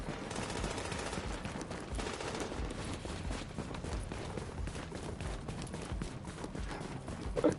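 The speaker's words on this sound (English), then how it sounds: "Can't even see where this shooting's coming from." Gunfire in the video game The Division, a continuous rattle of rapid shots and scattered impacts at moderate level throughout, no voices.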